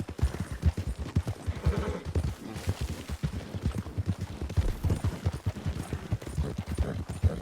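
Horse hooves clip-clop steadily at a slowing pace in Red Dead Redemption 2, with a continuous rhythmic patter of close, moderately loud footfalls and no talking.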